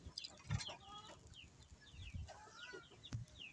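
A chicken clucks several times in short bursts, fairly faint and close, with some low thumps and no talk.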